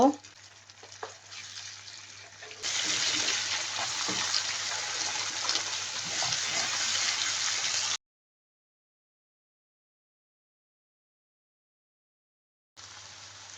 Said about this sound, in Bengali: হাফ কাপ পানি দিয়ে মশলাটা কষিয়ে নেব।